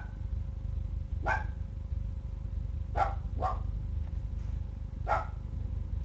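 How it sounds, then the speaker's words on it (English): A dog barks nearby in a room, four short sharp barks spaced irregularly, two in quick succession, over a steady low hum with no talking. "That dog really needs to shut up."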